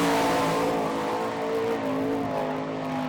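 Sprint car engine roars steadily around the Hartford, Ohio dirt track during All Star Circuit of Champions time trials, a loud, continuous high-revving drone with slight pitch shifts as the car works through the corners.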